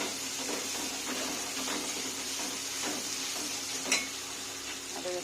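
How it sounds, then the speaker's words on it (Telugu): Ginger garlic paste frying in a pan with onions and tomatoes for a Telugu fish curry, a steady close sizzle with soft stirring scrapes and a brief louder clatter near the middle. "కొద్దిగా అల్లం వెల్లుల్లి పేస్ట్ యాడ్ చేస్తున్నాను."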